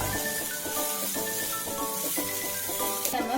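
Egg being stirred into chicken fried rice in a hot pan, with a steady sizzle of frying and rhythmic scraping strokes of a spatula, close and continuous with no talking.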